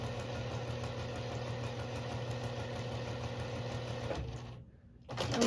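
A home sewing machine set to a small stitch runs a seam at a steady close hum with a fine rhythmic chatter. It stops briefly near the end, then starts up again.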